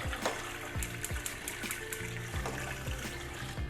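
Roughly four quarts of water poured into a cooking pot for collard greens, a quiet, continuous splashing and gurgling trickle with small repeated bubbly bursts throughout.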